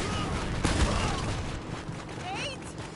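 Gunfire from a shootout in Uncharted: Drake's Fortune, a few close shots in a dense, noisy game mix over a steady background bed.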